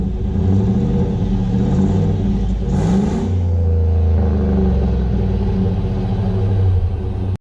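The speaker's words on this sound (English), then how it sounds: "you just hold the remote start button, and then the truck will start right up for you" A 2018 Chevrolet Silverado 2500 heavy-duty pickup engine started by remote start, with a brief cranking catch and rising rev before settling into a loud, steady low rumble close by.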